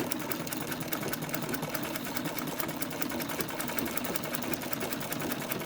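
A domestic treadle sewing machine stitches a fabric face mask, producing a steady, rapid mechanical clatter of needle strokes at an even pace, close and continuous throughout.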